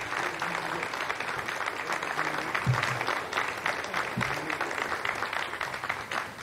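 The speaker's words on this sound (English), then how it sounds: "you heard the applause" Audience applause in a launch control room after the JCSat-15 satellite separates from an Ariane 5 rocket, sustained many-handed clapping at an even level with a few louder claps standing out.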